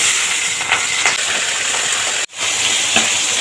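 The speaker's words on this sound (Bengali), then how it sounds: "এদিকে মাছ ভাজা হচ্ছে" Pomfret fish fry in plenty of hot oil, a loud continuous hiss and sizzle close by, briefly cut off by a sharp dropout before the frying noise swells back.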